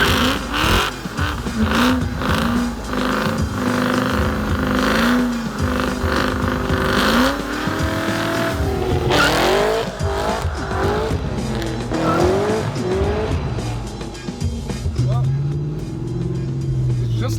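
Car with a supercharged LSA engine driving and revving, the engine loud and close with rising and falling pitch sweeps through gear changes, music and a voice running over it throughout.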